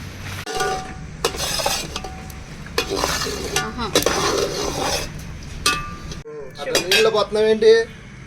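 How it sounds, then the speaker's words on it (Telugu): Jaggery syrup for coconut sweets bubbles as it is stirred in a pot over a wood fire outdoors on a cold night, with clinking and scraping of a metal spoon against the vessel, busy and fairly loud throughout. "బెల్లం పాకం అయితే ఉడుకుతుంది"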